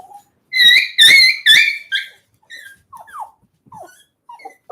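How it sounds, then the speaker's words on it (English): A dog gives a few sharp high barks close by, followed by softer whimpers and whines in short bursts with quiet gaps between them. "You're indulging in that barking?"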